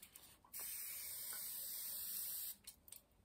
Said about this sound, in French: vaporiser un peu d'eau où j'ai mis des pigments